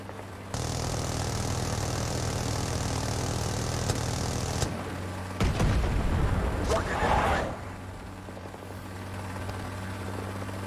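Helicopter rotor and engine drone with rapid gunfire bursts during a strafing run in Rising Storm 2, a steady loud mechanical roar broken by a harsh burst of shots, with players talking over it.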